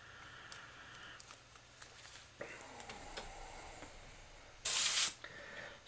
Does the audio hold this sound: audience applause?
no